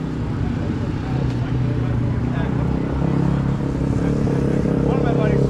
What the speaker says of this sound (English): Dirt bike.